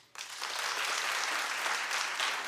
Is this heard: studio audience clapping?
yes